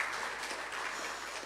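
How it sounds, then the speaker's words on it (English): Audience at a rural youth agribusiness project event giving a round of applause, a faint, steady wash of clapping with no voices, lasting just over a second. "please let's give a round of applause to all our partners who have been supporting us from the beginning"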